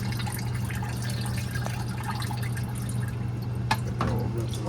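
Water drains steadily from a Nio bean-to-cup coffee machine, giving a continuous trickling wash over a low mechanical hum with a few small splashes.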